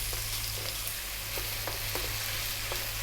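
Cubed skinless, boneless chicken breast stir-frying over high heat hisses with a loud, continuous sizzle, broken by faint scraping taps as the pieces are moved, with no voices.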